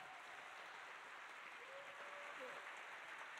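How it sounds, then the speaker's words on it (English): Soft, distant applause rises from guests at a charity dinner for a foster dog training program, a faint continuous patter of clapping. "Let's give Elisa one more round of applause."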